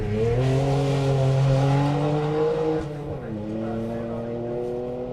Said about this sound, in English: he's revving it up and getting ready to go